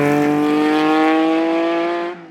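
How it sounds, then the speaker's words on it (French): A Lancia Stratos with a Ferrari 2.4-litre V6 pulls away on the Tour Auto road rally, its engine note a loud, steady, rising drone that drops off sharply at the end. "les voici partis au son du moteur V6 Ferrari"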